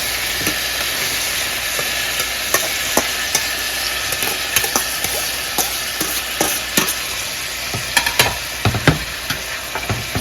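A spoon stirs fried onion with saffron, raisins and walnuts in a pan, a steady sizzle broken by frequent scraping clicks and taps, close and alone without speech.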